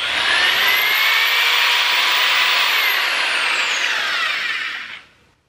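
Belt tube sander polisher running on its fastest setting against dirty tubing, a loud, steady high-pitched whine with a rising and falling tone that holds for about five seconds before cutting off.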